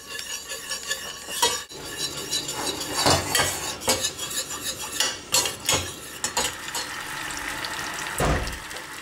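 Pepper sauce for duck magret set on the stove heat, with a spoon stirring and scraping against the pan alongside a steady sizzling hiss, metallic clinks and knocks scattered throughout, close and fairly loud with no talking.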